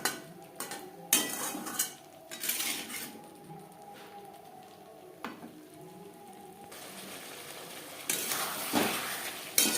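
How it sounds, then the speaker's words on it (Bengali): A spatula scraping and clinking against a pan while potato and cauliflower are stirred with spices, repeated metallic taps and scrapes over a faint sizzle, close up. "ফুলকপি আরও তিন চার মিনিট নাড়াচাড়া করে নেব"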